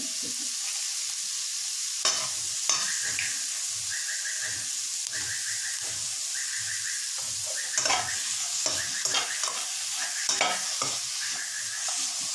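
Masala spices with tomatoes sizzle and crackle in a hot pan, with repeated scraping stirs and short clattering strokes over a steady frying hiss.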